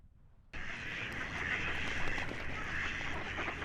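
A loud, continuous run of nasal duck quacking that starts abruptly after a brief quiet moment.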